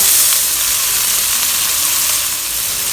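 Scallops sear in a hot pan beside asparagus in ginger oyster sauce, giving a loud, steady broadband sizzle that holds evenly throughout with no voices.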